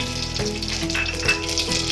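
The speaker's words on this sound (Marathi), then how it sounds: "इथे थोडंसं तेल जास्त टाकायचं जिरं मोहरी टाकूया" Cumin and mustard seeds crackle and sizzle in hot oil in a pressure cooker, a steady loud frying hiss with a few sharper pops along the way.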